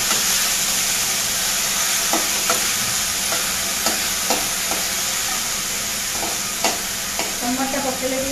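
Tomatoes and cumin frying and being stirred in a pan, a loud steady sizzle close by with repeated sharp scraping taps of a spoon against the pan, no talk.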